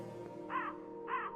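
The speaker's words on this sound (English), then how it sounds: "So these are black birds now." Two harsh caws from black birds, most likely crows, sound close together at an even spacing over a low, steady background hum. Both calls are clear and fairly near, and no one speaks.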